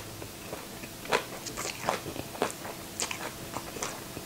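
Someone eats stir-fried Korean-style Mama instant noodles with curly kale, making close, crisp crunches and irregular chewing bites that repeat through the clip, with no talking.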